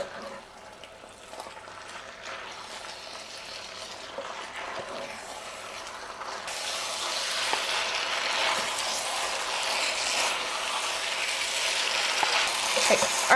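Shanghai noodles with meat and sauce stir-frying in a pan, a steady sizzle that grows slightly louder and fuller as the heat is raised, with occasional soft scraping of stirring.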